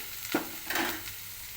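Onions with half a spoon of salt are stirred in a pan while cooking amaranth greens: two brief scraping strokes over a faint, steady sizzle, close by.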